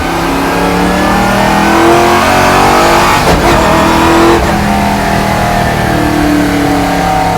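A NASCAR-powered V8 Camaro with straight-cut gears revs hard and loud up close, its engine note climbing steadily, then cutting briefly at two quick gear shifts around the middle before pulling on again without pause.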